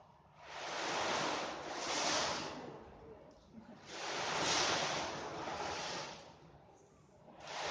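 A sea-like surf sound from something other than the sea itself, heard at a Mayalde folk performance in Móstoles: two long swelling washes of rushing noise rise and recede like breaking waves, with a third building at the end and no voices.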